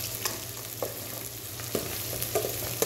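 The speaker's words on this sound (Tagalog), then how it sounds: "Haluin mo lang." Onions fry in a pan while being stirred, a steady sizzle with a low hum under it and scattered light clicks and scrapes of the spoon, close and unbroken by talk.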